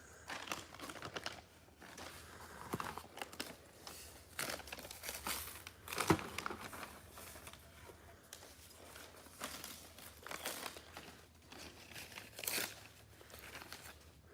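Old paper crinkling and crumpling as it is unwrapped from a 1932 Barton County, Kansas truck license plate, close and irregular with sharp rustles and crackles throughout.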